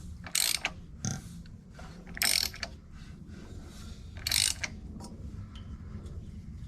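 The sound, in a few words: big block 400 engine turned over by hand with socket, building compression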